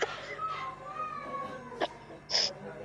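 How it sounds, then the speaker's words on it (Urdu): A person coughs amid faint vocal sounds: two short, sharp bursts close to the microphone, the second stronger, over a quiet indoor background. "سوری مجھے کھانسی بہت ہو رہی ہے"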